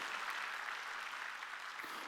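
A church congregation at a Sunday worship service claps together in a soft, even wash of applause, distant and steady throughout with no voices standing out.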